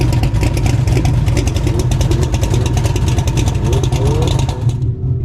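A quarter-mile drag race between a gutted Tesla Plaid and a Firebird with a twin 76mm turbo 6.0L LS engine brings a loud, sustained engine roar with rising revs and rapid pulsing, which cuts off abruptly at the end.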